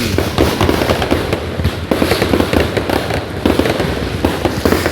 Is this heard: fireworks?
yes